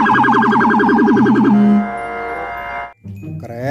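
A toy police siren wails in a fast, rising-and-falling warble, then holds a steady electronic tone before cutting off abruptly and restarting.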